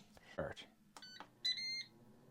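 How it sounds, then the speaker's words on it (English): An air fryer, running off a portable power station, gives two short electronic beeps, the second longer and steadier, as it is switched on, following a moment of nearby talk. "So let's put the air fryer on."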